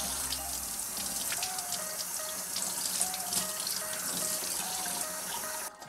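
Brined trout fillets are rinsed under a running kitchen tap, a steady close splashing hiss of water into a sink that continues throughout and cuts off abruptly at the end.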